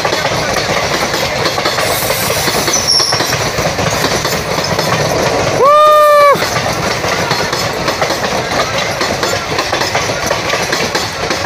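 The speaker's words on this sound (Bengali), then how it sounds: "शिलचर टू गुवाहाटी ट्रेन जा, देखो" Silchar to Guwahati train passing close by with a loud continuous rumble and clatter of wagons, a horn sounding briefly midway.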